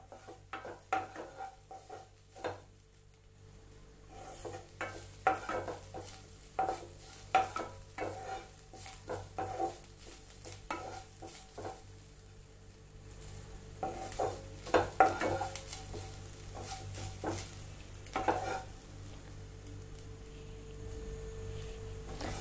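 Sesame seeds and coconut dry-roasting in a pan, with repeated scraping and stirring strokes of a spoon against metal over a faint sizzle, irregular bursts throughout.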